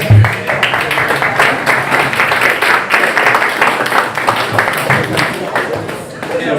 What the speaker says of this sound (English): One more round of applause for our frontline debaters